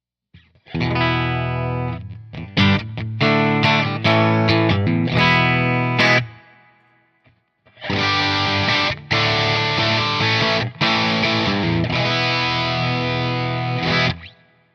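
An electric guitar played through a Line 6 Helix amp modeler plays two loud, distorted phrases separated by a short pause, with strummed chords and sustained notes ringing out.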